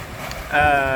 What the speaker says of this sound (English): Wind is gusting.